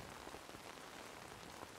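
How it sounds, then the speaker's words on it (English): Steady rain falls and patters on surfaces in a dense, continuous hiss, fairly faint, with no voices. "The rain washed them all away."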